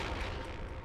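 A single gunshot fired in the video game South Park: The Fractured Butt Whole, a dense, booming burst that stays loud and full for under a second, with no talk over it.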